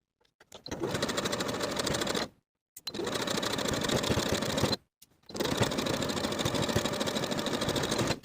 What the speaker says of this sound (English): I'm going to stitch in the ditch of that main sash seam, from one side seam to the other